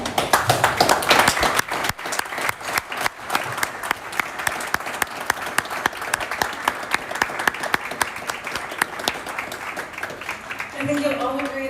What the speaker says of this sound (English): As soon as we uncover this beautiful stone, we can all participate with our applause